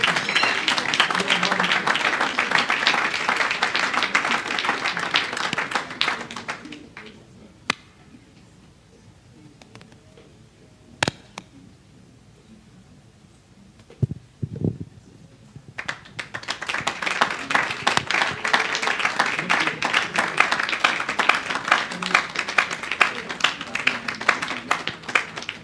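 A church congregation bursts into applause: dense, loud clapping for several seconds, then a near-quiet stretch with a few isolated taps and knocks, before the clapping swells back up and continues strongly to the end.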